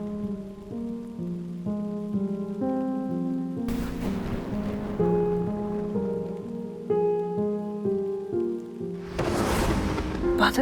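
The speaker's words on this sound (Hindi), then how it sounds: "मुझे गरजते हुए बादलों से बहुत डर लगता है." A thunderstorm with steady rain and rumbling thunder, heard beneath a soft melodic music bed, with two bursts of heavier noisy rumble rising out of the background.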